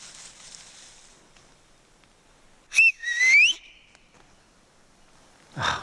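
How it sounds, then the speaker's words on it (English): A short, sharp whistle blast followed by a longer sliding whistle tone, heard alone against a quiet outdoor wilderness background in Romania with faint rustling. "My whistle could be mistaken for a bird off in the distance."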